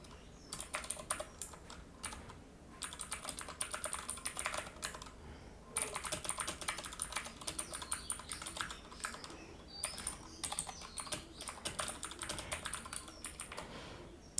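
Computer keyboard typing in quick, irregular bursts with brief pauses, moderately close and steady throughout, while text is entered into a web contact form; no voices.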